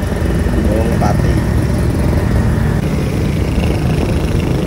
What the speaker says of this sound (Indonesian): Saya menggunakan Vespa klasik yang Strada.